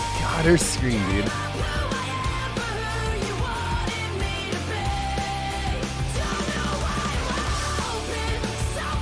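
A female vocalist screams over dense, loud metal instrumentation in a song, with a sharp yell near the start and sustained singing over driving drums and guitars.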